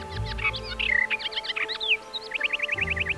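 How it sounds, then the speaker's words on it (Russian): Several birds chirp and trill in quick, bright phrases, with a rapid repeating series of tweets near the end; fairly close and clear over a low background rumble. "Птички поют,"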